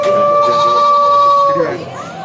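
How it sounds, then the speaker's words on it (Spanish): At a livestock exhibition in Ciénega, Boyacá, a sheep or goat gives one long, steady, nasal bleat that wavers and drops off at the end, loud and close, with crowd murmur behind it. "Aquí tenemos una oveja y tenemos un cabro."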